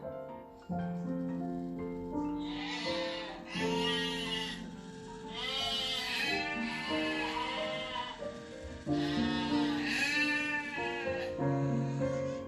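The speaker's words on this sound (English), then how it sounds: "Sheep." Sheep bleat repeatedly in wavering, nasal calls, several overlapping bursts spread across the clip with a steady farmyard background and no speech.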